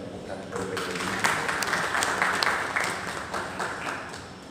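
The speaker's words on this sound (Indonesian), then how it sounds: "Boleh tak kita bagikan tepukan kepada mereka ini?" Audience applause for guest artists at a KL Rhythm Nitez press event, a busy patter of clapping that swells and fades, with a voice talking over it.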